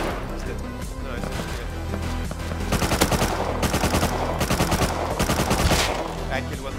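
Rust gunfire: rapid automatic volleys cracking in quick succession, dense and fairly close, heaviest in the middle, with players talking throughout.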